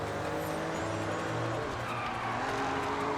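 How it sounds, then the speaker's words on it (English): Cars racing in Forza Horizon 6, with steady, loud engine roar and tire noise filling the whole stretch and no talking. "Sorry, I can't hear you over the car."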